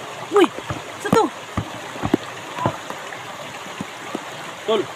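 Rushing stream water flows strongly and steadily, broken by several sharp splashes and knocks, with a voice calling out intermittently over it.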